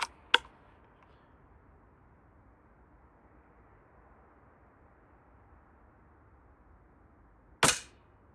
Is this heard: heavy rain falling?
no